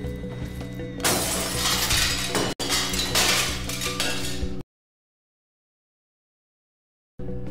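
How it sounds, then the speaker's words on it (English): Glass smashing in Stray, struck with a brick: a sharp loud shatter followed by tinkling shards, a brief second crash, then abrupt silence and a faint return of sound. "This is, without a doubt, my favorite glass breaking sound effect."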